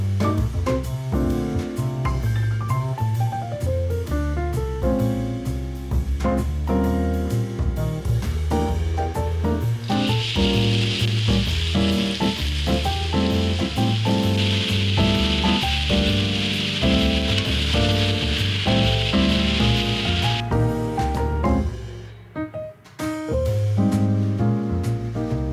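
Ground steak sizzles in a stir-fry pan, a steady hissing crackle that grows denser partway through and then briefly drops out, all beneath continuous music.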